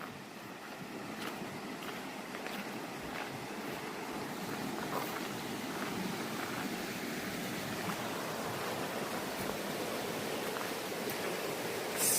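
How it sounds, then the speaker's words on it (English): River water rushing steadily during a hiking crossing at Agua Salada in Morelos, a broad constant wash of flowing current with a few small splashes and knocks, no voices. "Second river crossing happening right now."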